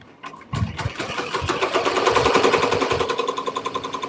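A Ricoma embroidery machine stitches at close range, its needle mechanism producing a rapid, regular mechanical chatter that starts abruptly and continues steadily at moderate volume.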